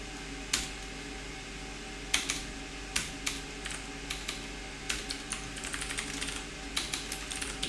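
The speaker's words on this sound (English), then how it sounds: "my typing is terrible this evening" Keys clatter on a computer keyboard during a live coding session, quiet irregular bursts of taps and short runs of typing, close and alone with no talking.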